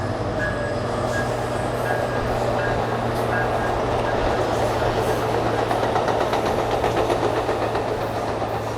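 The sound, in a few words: double-decker passenger train passing by the coast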